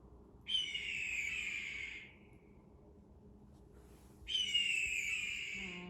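A played-back recording of an eagle gives two long, high, slightly wavering whistled cries several seconds apart, fairly clear over a low background hum.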